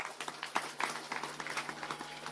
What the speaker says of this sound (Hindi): इसके लिए आप सभी जोरदार ताली एक बजाइए।